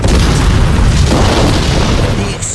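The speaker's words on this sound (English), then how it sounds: "The explosions were titanic" German ammunition trucks explode in a wartime town during a WWII tank attack, a loud, sustained roaring boom with rumbling low end that fades slightly at the close.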